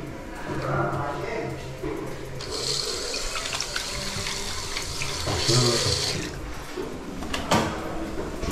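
Tap water runs strongly into a sink in a newly painted house. The stream is steady and close, with a brighter surge midway and small clatters of handling, and no voices over it.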